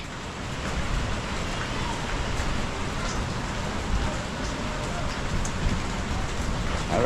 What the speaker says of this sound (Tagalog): At nabot nga tayo ng ulan.